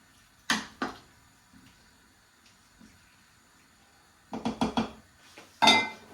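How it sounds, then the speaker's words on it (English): A spoon stirs green tomato chutney in a pot, making a couple of isolated clinks early on. A later flurry of quick scraping knocks follows, with near-silence in between. "I'm going to give it a nice good stir"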